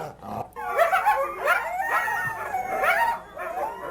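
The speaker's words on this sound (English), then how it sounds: "And this is more of that yip howl I was talking about." Coyotes give a rapid yip howl, overlapping wavering howls and sharp yips rising and falling in a chorus that sounds like many animals, loud and close with a brief dip before continuing.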